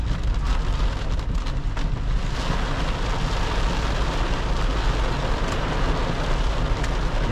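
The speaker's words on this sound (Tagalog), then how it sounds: "Yan po, lakas ng ulan" Heavy typhoon rain pounds steadily and loudly on a moving Toyota Prado, a dense continuous roar with road rumble beneath.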